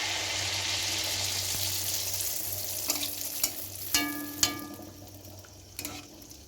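Malpua batter frying in oil in a wok makes a soft, steady sizzle, broken in the second half by several sharp clinks and scrapes of a utensil.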